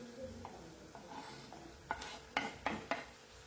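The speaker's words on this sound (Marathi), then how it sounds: "आणि टमाटा पण छान तेलावर परतून घ्यायचा आहे." Finely chopped tomato and onion fry in oil with a soft sizzle, then a handful of distinct spoon scrapes and taps against the pan near the end, quiet and close with no talking.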